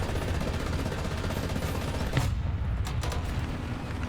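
A tank cannon shot bouncing off armor during a Pz. IV F2 battle in War Thunder: a sharp, brief impact crack and clatter cutting through a constant loud engine rumble, followed by a few faint metallic ticks.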